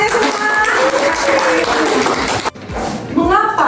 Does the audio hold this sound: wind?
no